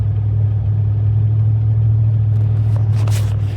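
A car driving at wide open throttle gives a loud, steady engine drone with deep rumble, holding constant throughout with a few faint higher rattles near the end.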